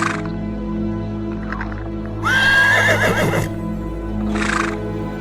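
A horse gives a single clear whinny midway, rising then shaking down in pitch, close and fairly loud over a steady low hum, with faint breathy snorts before and after.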